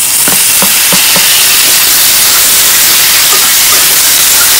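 Tomatoes added to a pan of fried cashews hiss and sizzle steadily for palak paneer, a loud, continuous broadband frying sound with a few brief crackles near the start and no talk.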